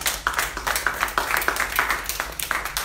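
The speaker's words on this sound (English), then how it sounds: "Give them a hand clap." Hand clapping from a church congregation during a funeral service, a scattered series of sharp, irregular claps at moderate volume, with a faint voice underneath.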